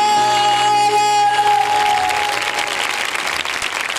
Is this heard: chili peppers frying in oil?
no